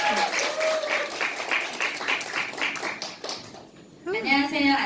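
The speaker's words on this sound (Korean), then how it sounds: "박수, 박수, 축하드립니다" An audience at a business meeting claps to welcome a speaker with a scattered, moderately loud round of applause, while a voice talks over it and a microphone squeals near the end.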